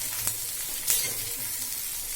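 Dried red chillies frying in a pan, a constant close crackling sizzle of hot oil with a couple of sharper spits and light stirring scrapes.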